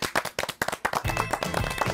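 A studio audience on a Turkish cooking show bursts into a short round of applause, loud, close and quick-paced claps, which give way to voices talking after about a second.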